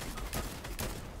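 Video-game gunfire rattles in a few rapid bursts, loud broadband cracks about half a second apart with a noisy background.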